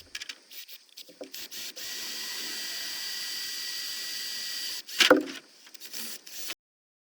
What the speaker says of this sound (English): I've got these pieces of angle irons that I'm going to drill some holes in